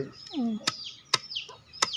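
Free-range country hens clucking close by, a few rising and falling calls broken by sharp clicks, fairly quiet.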